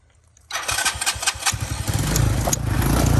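A 125cc Tao Tao motorcycle engine coughs to life after a quiet moment, sputtering through uneven throttle blips and then settling into a louder, steady rising drone.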